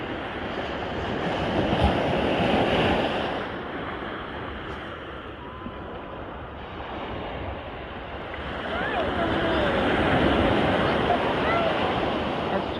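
Waves washing in along a shore, a steady broadband surf roar that swells, eases around the middle, then builds again, with faint voices in the background.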